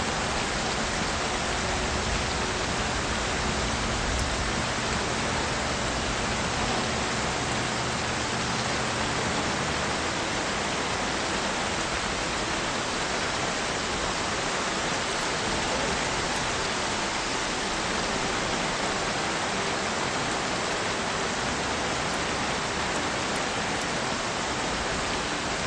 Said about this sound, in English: when we get out of the rain